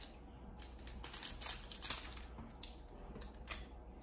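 Packs of 2019 Panini Prizm baseball trading cards are cut open, giving quiet crinkling and snipping of foil wrappers in irregular bursts, close and faint, with no talking.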